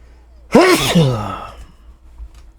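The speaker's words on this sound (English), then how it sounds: "I'm sneezing." A single loud, close sneeze bursts out near the start and fades over about a second into quiet room tone, with no talking around it.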